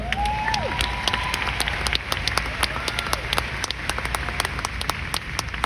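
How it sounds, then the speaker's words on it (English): An audience at a Mary Kay sales event breaks into applause, sharp individual claps popping out of a busy, crowd-wide clapping texture, with a voice briefly heard near the start. "I think that deserves a round of applause, don't you?"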